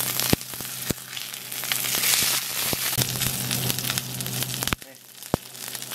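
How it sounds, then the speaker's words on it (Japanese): Pork shoulder for chashu sears in a smoking pan, a loud crackling sizzle broken by sharp knocks and scrapes from turning the meat, with a brief drop near the end before the frying resumes. "さあ、ちょっと焼き目がついてるかな、どうかな、 もうちょっとですね、煙出ますけどね、ここはしっかり焼き目のみつけてください"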